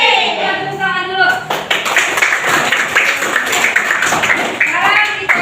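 A class of seventh-grade students claps in a classroom after a teacher's cue, a loud, sustained patter of many hands with children's voices mixed in at the start and end.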